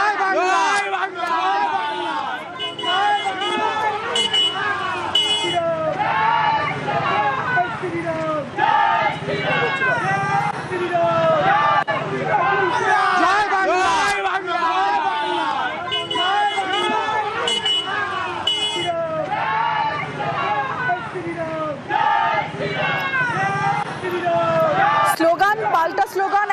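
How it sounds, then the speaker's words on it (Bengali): Large outdoor crowd at a political event, chanting rival slogans back and forth with a loud, continuous babble of many voices and rhythmic repeated calls. "স্লোগান পাল্টা স্লোগান, একদিকে জয় বাংলা স্লোগান, একদিকে জয় শ্রীরাম স্লোগান।"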